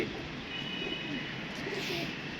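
A pigeon coos in faint warbling phrases beneath a steady broadband hiss, fairly close but subdued.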